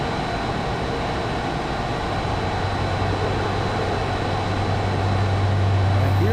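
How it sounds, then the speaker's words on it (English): A jet plane roars steadily in a VR flight combat game, a continuous engine drone with a low hum rising slightly toward the end, no talking over it. "I hear a plane."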